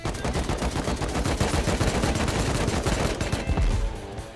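Rapid automatic gunfire from an attack helicopter strafing in the survival game Rust, a dense, loud, continuous burst of shots lasting several seconds before tapering off.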